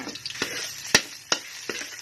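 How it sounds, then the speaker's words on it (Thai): A soft, steady sizzle of Thai red curry paste frying in hot oil in a pan, broken by a few sharp scraping clicks of a spatula against the pan. "ใส่น้ำพริกแกงเผ็ดลงไปผัดเลยค่ะ"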